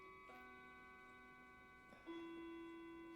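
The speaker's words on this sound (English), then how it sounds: "Oh, there goes the clock." A clock ticks quietly on its own, with sustained ringing tones held underneath in a calm indoor setting.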